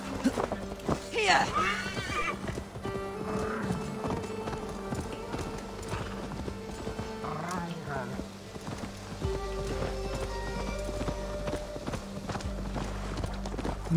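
A horse whinnies in Assassin's Creed Valhalla, followed by hooves clip-clopping at a quick pace, with game music and effects mixed in underneath.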